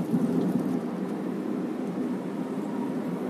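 Aging 2004–2005 Suzuki Baleno Nex-G facelift, about 15 years old, with a steady low rumble from worn suspension and road noise while driving, continuous and fairly loud throughout.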